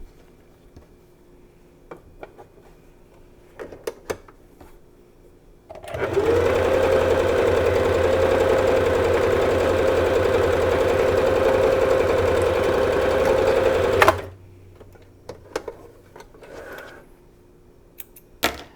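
A Juki HZL-27Z sewing machine stitches through a double thickness of fabric in one loud, steady run of about eight seconds, with quiet clicks and handling before and after.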